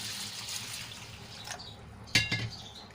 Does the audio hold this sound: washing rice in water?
yes